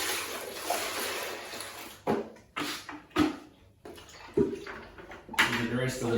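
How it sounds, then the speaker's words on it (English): Clean water pours and splashes into the hopper of a Wagner Control Pro 150 airless paint sprayer, a steady gush broken by several short pauses and sloshes. "Now we can put some clean water straight into our hopper."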